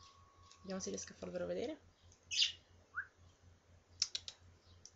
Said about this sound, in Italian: Sentite i miei pappagalli in sottofondo.